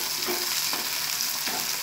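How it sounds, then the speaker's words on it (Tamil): Slit green chillies sizzle and crackle in hot oil in a pan for a tangy tamarind chilli gravy, a steady close frying hiss with soft stirring swells, no voices. "பச்சை மிளகாயை நல்லா வதங்கட்டும்."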